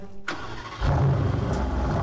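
A Honda Civic Type R in Roblox Driving Empire cranks and fires up after a click, then settles into a loud, steady, rumbling idle close by.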